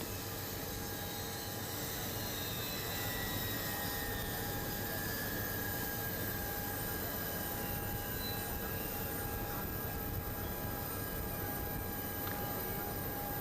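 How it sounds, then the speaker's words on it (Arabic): The French presidential airplane taxis on the runway at Beirut airport after landing, a constant jet engine whine and rumble with thin high tones that drift slowly, loud and steady throughout with no talk. "ويخرج الرئيس الفرنسي إيمانويل ماكرون من الطائرة الرئاسية التي حطت منذ لحظات على مدرج مطار"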